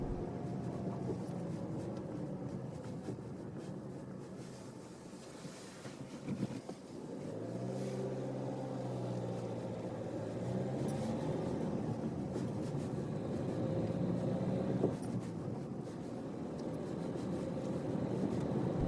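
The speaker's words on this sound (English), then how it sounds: "I'm going to stop and reverse back to let them through." A car on a narrow uphill road slows to a stop and then reverses, its engine a low, steady hum with a soft change in pitch partway through, moderately distant and without voices.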